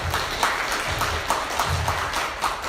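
Steady applause from the audience at a livestreamed mental health panel, many hands clapping evenly for a speaker being introduced, filling the room without pause.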